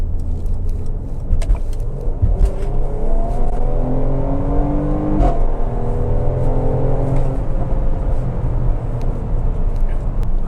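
A Mercedes-AMG GLC 43 SUV coupé accelerating hard, its engine rising through gears with climbing revs and brief shift dips, loud and close inside the cabin.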